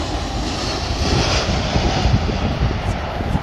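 A loud, steady roar of an airplane engine rumbles close by at London Heathrow Airport as a plane lands, broad and continuous.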